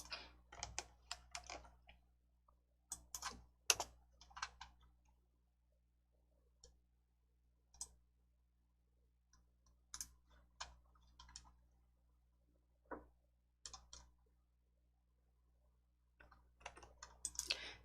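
Computer keyboard typing and clicking while working in a Korean word processor: sparse, light key taps in small clusters separated by quiet gaps, close and alone with no talk.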